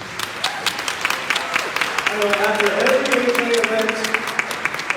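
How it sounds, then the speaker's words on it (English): A luncheon audience at a Las Vegas sports panel claps for the panelists, scattered hand claps rising into fuller applause, while someone talks over the clapping near the mic. "please, give a big round of applause for our panelists"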